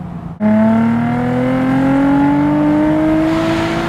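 Nissan 350Z convertible V6 exhaust kicking in suddenly and revving hard, a loud steady rising engine note that climbs continuously for a few seconds without talk.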